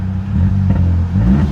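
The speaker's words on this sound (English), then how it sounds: "he's revving it on the cold engine" A cold car engine with its muffler deleted is revved gently, a loud, close, steady low exhaust drone that rises and swells slightly a couple of times without climbing high.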